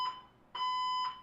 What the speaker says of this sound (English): stupid fire alarm